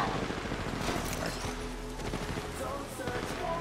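Continuous gunfire from an Apex Legends Mobile battle royale match, with dense rapid shots and a machine-gun-like rattle. The shooting runs steadily throughout, mixed with game effects and talk from players.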